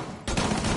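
A burst of loud, close gunfire in a tactical shooter video game, given as a shotgun firing. It starts abruptly after a short lull and carries on as a dense, sustained blast.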